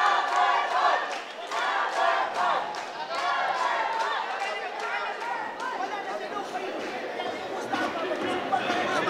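A boxing arena crowd chants and cheers in a steady, rhythmic roar during a professional fight, with a commentator talking over the noise.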